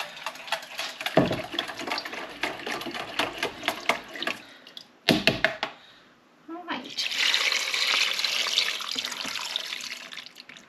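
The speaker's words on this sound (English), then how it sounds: "I'm just going to place the gammon in. And then the stock." Stock pours into a pot holding gammon and split peas, a steady splashing stream of liquid that runs loud for several seconds, with clatter and talk before it.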